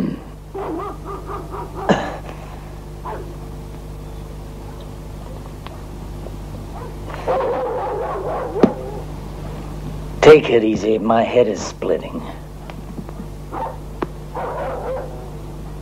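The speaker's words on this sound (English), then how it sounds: "What's gotten to those damn dogs?" Dogs bark in the distance in a few short bursts behind a tense exchange between two men, with a muffled background hum throughout.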